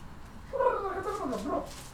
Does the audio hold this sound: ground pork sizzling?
no